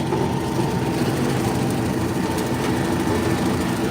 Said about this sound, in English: muting it because the tractor's loud